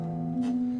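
A guitar chord rings out with low bass strings sounding underneath, the tones sustaining steadily, with a brief brighter strum midway.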